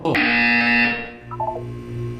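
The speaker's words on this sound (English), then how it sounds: "When you hear the buzzer, look down at the floor." A test-chamber buzzer from the Portal 2 video game sounds in one loud electronic burst that fades out, followed by a few softer chiming tones.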